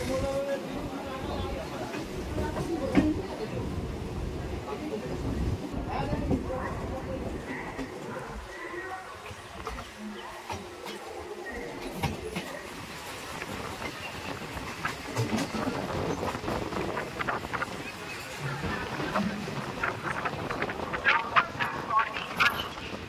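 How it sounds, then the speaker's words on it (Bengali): A suburban local train running from Sealdah toward Sodepur, a continuous rumbling rattle of carriages with clacking rail joints and occasional horn, people talking over the noise throughout. "ট্রেন ছেড়ে দিয়েছে শিয়ালদা থেকে, এখন বেরিয়ে পড়েছি"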